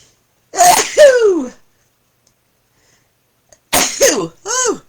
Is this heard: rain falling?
no